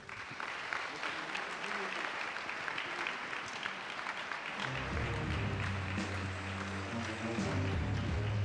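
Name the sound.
applause welcoming the evening's winner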